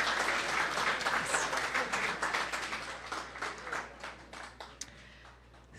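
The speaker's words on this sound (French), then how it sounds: "Une bonne main d'applaudissements, s'il vous plaît." At a Université de Sherbrooke evening event, an audience applauds after a presentation: a steady wash of many hands clapping that gradually thins out into scattered claps toward the end.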